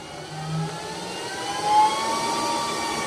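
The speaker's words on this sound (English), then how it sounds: "now start the mains plug. Let the fan reach its maximum speed." An Airmax electric PCP air compressor's cooling fan spins up after being switched on at the mains, a steady whooshing whir that swells slightly and holds near full speed.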